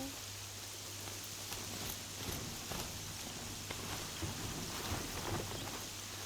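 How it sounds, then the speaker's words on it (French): Steady, dense video-game rain in Horizon Zero Dawn hisses throughout with a low rumble underneath and scattered heavier drops, like a downpour with distant thunder. "Il pleut"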